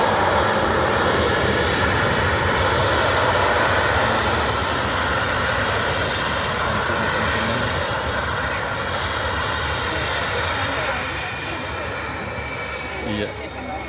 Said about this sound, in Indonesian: Pesawat mau landing teman-teman.